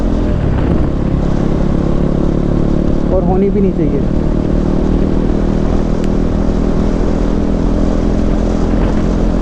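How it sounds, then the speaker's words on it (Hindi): A used KTM motorcycle, an RC 390 or Duke 390, runs steadily at idle with a loud, even engine drone throughout, while someone talks briefly over it. "देख रहे हो कितनी स्मूथ चल रही है बाइक"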